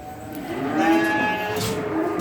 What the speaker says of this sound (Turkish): Bakın mallar üşüşüyor maşallah.